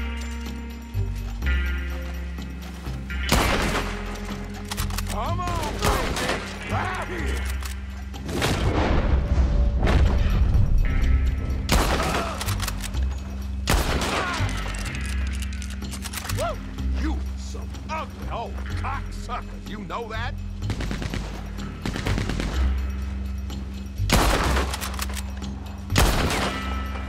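Gunfire in the Western video game Red Dead Online: a run of sharp, loud shots and booming blasts spread across the scene, some in quick bursts, set against clanking mechanical game effects and a steady low background score.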